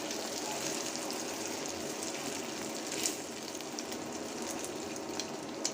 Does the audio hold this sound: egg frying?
yes